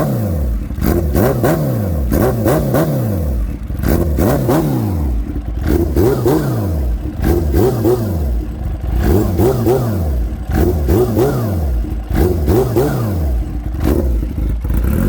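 A supercharged 350 hp Kawasaki Ninja H2 motorcycle revving hard and close, the engine note repeatedly rising and falling in quick throttle blips, loud and continuous with a mechanical clatter throughout.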